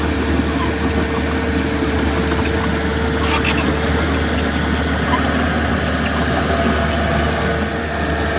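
A house pat vehicle, a machine for moving manufactured homes, runs with a steady low engine drone and rumble, close by and continuous throughout, with faint outdoor background noise.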